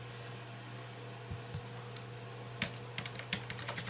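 Faint, scattered keystrokes on a computer keyboard tap out in short irregular bursts over a steady low hum, quiet and nearby.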